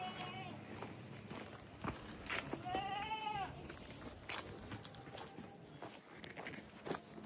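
A single goat bleats partway through over footsteps and outdoor noise in a Nepali village near Manakamana, with voices speaking nearby.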